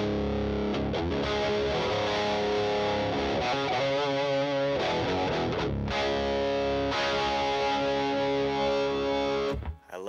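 A distorted electric guitar tuned down a half step in drop D plays dense, sustained chords and riffing lines with heavy crunch and slight chorus-like shimmer, loud and continuous before cutting off near the end.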